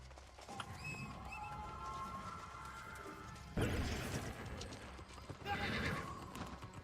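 Horse in the video game New World whinnies loudly near the start, followed by steady clip-clop hoofbeats and a sudden heavier burst of movement midway, all close and continuous.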